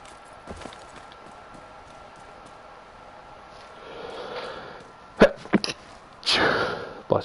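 Near the end, a man lets out a sudden close sneeze, a sharp burst that stands out against a quiet background with faint earlier noises.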